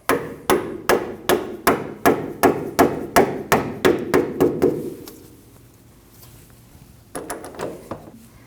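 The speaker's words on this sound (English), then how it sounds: "Take a rubber mallet, tap your bolt straight up." A rubber mallet taps a sway bar link bolt on a 2012-2021 Nissan NV2500 van, giving about a dozen evenly spaced loud, dull knocks, then a pause and a few lighter taps.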